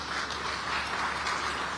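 A crowd applauds for newly signed MOUs at the Kilifi County International Investment Conference in Kenya, giving a steady, even wash of clapping that stays moderately loud throughout and has no voices over it.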